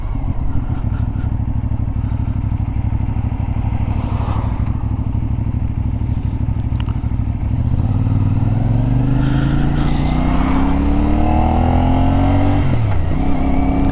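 A CFMoto 450 NK motorcycle rides under light throttle, its engine droning loud and steady with wind rush, and pitch climbing gently toward the end as it accelerates slightly.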